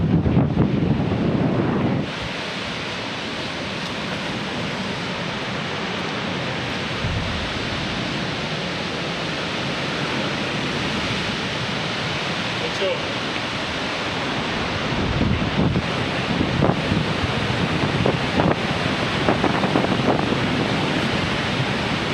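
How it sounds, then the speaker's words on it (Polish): Ocean waves and surf pound the Australian coast near sea caves, a steady, loud roar of rushing water mixed with wind buffeting the microphone and no speech. "No tu można by się zsunąć prosto do oceanu, który cię zabierze. Tu są fale."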